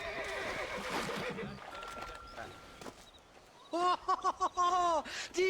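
Horses in a video game whinny several times in quick succession, loud and close, after a stretch of voices and watery background sound.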